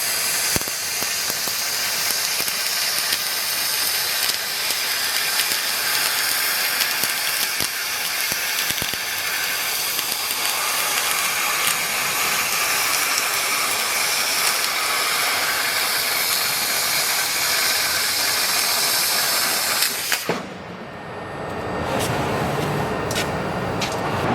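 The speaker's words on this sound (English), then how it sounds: "we will use the 20 kilowatt fiber laser cutting machine. Cutting 40 millimeter carbon steel." 20 kW fiber laser cutting machine slicing 40 mm carbon steel, a loud, dense hiss and roar with rattling mechanical crackle, cutting off sharply near the end into a quieter hiss.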